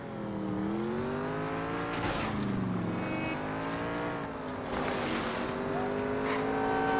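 Fast car in the L.A. Noire video game, engine roaring loud and steady with rising and falling revs through gear changes, a brief squeal near the start, no voices.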